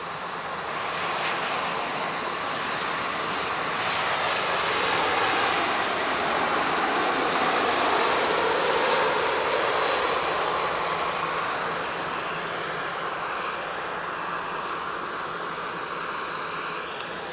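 A British Airways jet airliner's engines roar steadily at Lisbon Airport, a broad, far-off rushing sound that swells toward the middle and slowly fades, heard alone for about seventeen seconds.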